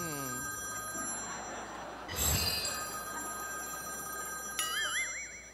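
A telephone rings in an office on a busy Monday, electronic trilling tones repeating through the clip with a louder burst midway, no voices over it.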